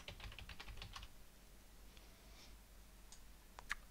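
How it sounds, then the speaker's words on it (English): A computer keyboard clicks through a quick, faint burst of keystrokes as a password is entered on an Ubuntu Linux machine, followed by a few scattered taps and a final sharper key press. "Type in our password."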